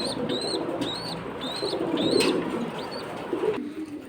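Many flying pigeons on a rooftop keep up a steady cooing murmur, with repeated high bird chirps and brief wing flutters over continuous ambient noise.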